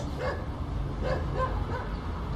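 A few soft dog barks or yips, somewhat distant and muffled, over a low background hum.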